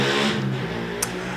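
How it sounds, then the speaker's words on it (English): A motorbike passes outside on a street where roadworks are underway, its engine note swelling and then fading over about a second and a half, moderately loud and heard alone. "So, motorbike."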